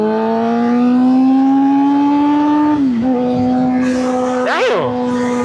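A custom-built Suzuki GSX-R 750 sport motorcycle on a test ride holds a loud, steady engine drone that dips briefly as it shifts, then picks back up with wind buffeting around it.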